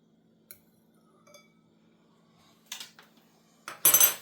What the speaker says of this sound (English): just grab a little fork